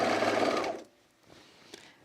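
A serger sewing machine runs at speed with a loud, fast mechanical whir for under a second, then stops abruptly, leaving faint handling noise and a small click.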